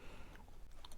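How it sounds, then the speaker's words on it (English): Fried cassava flour snack with avocado oil being bitten and chewed, giving soft, faint crunching with a few sharper crisp clicks near the end, close up and quiet. "You guys hear that crunch?"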